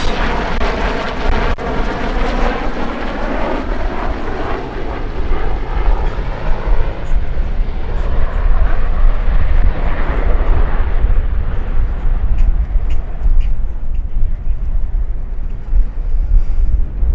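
A Westland Sea King helicopter roars past on a high-speed pass at an air festival, its engine and rotor noise swelling and shifting in pitch as it sweeps by, with wind buffeting the microphone.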